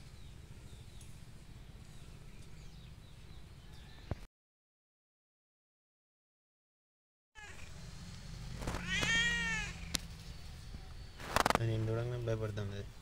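A white pet cat meows in a few drawn-out calls near the end, rising and falling, with rustling and a voice talking around it after a stretch of silence.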